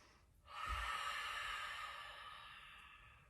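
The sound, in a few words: breathing during yoga pose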